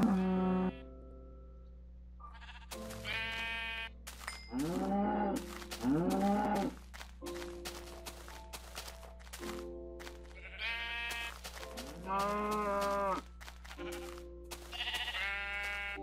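Livestock calls in the video game NPCIty: cattle low and sheep bleat in a series of separate wavering cries, some overlapping, over a quiet steady hum.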